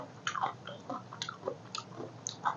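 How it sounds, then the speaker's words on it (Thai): Crunchy raw vegetables and salad are bitten and chewed close up in a series of crisp, uneven crunches and squishy mouth sounds, with no talking over them. "กรุบกรุบเลยเนาะ"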